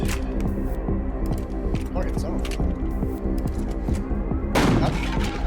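Sawed-off shotgun fire comes as a rapid series of sharp, evenly spaced blasts that run steadily through the clip, with a heavier burst near the end, all beneath ongoing talk.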